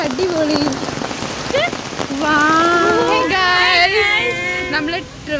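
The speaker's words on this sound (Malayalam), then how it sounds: "ഭയങ്കര മഴ" Heavy rain pours down steadily at Trivandrum Zoo, a loud, close wash of hissing water that lasts throughout while several people talk and call out over it.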